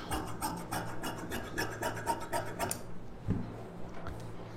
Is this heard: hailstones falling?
no